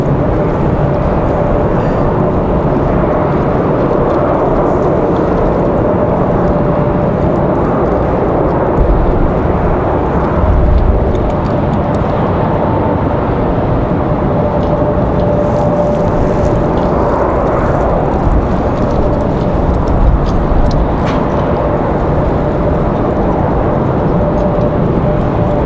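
A Frontier Airbus A320 arrives at Raleigh-Durham airport on a windy day, a steady broad jet roar that holds fairly loud throughout, with gusty wind noise mixed in.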